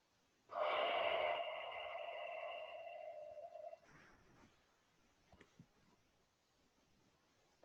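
A long, deep exhalation during a Jo staff breathing exercise comes as a loud, close, breathy rush lasting about three seconds, then fades into quieter breath noise and small movement sounds.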